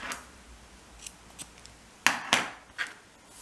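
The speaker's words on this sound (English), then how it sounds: "cut the yarn" Scissors snip through crochet yarn while making a bag, a few quiet closing clicks followed by two sharper, louder cuts close by, with no talking.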